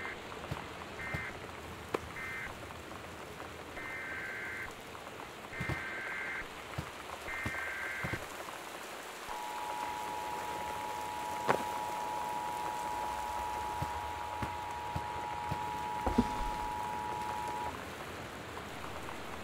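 Torrential rain in the Gone Home video game, a steady close wash of downpour. Short repeated electronic beeps sound early, then a long sustained alert tone runs over the rain, with occasional sharp knocks.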